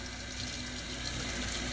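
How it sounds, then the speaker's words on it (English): Tap water running steadily into a kitchen sink during meatloaf preparation, a constant hissing splash at moderate volume with no break. "let me run this water."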